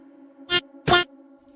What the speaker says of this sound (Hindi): ये कैसी आवाज है? कोई घुंघरू पहन के नाच रहा है।